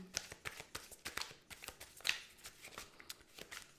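Tarot cards being shuffled by hand, a quick run of soft riffling flicks and papery slaps at close range with no talk over them.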